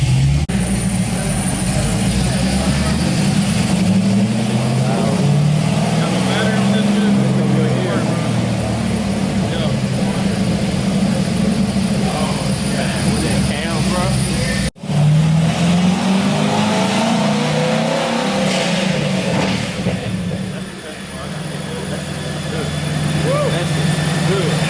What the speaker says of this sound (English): It's gonna be loud as fuck when he let off the gas.